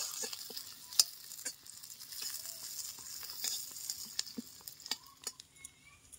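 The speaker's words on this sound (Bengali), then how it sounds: "পেঁয়াজটাকে হালকা বাদামি করে ভেজে নেব।" Two chopped onions fry in hot oil toward light brown, a quiet steady sizzle broken by scattered clicks and taps of a spatula against the pan.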